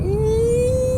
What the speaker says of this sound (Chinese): 你在重踩油门的时候， 你听到的不是引擎， 不是 CVT 的嘈杂声， 而是电动的声音